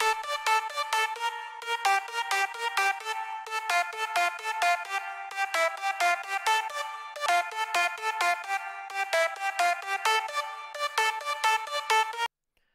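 Bright layered synth leads from a big room track made in FL Studio play a rhythmic, stuttering chordal riff in steady repeated pulses, loud and alone until they cut off abruptly near the end.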